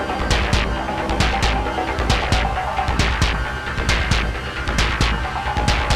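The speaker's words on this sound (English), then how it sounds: "we built a kind of percussive texture on the DFAM, on the Moog DFAM" Percussive texture from a Moog DFAM synthesizer, a steady fast pulse of bright noisy hits over a deep throbbing low end, loud and continuous throughout.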